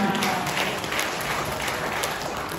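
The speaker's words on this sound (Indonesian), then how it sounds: "Tepuk tangan" Steady, dense applause from an audience at an Indonesian education department year-end reflection gathering in Bojonegoro, a continuous wash of clapping lasting a few seconds at even loudness.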